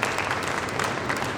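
An audience at a speech gives a brief burst of loud, dense applause, many hands clapping together close by, with no talk over it.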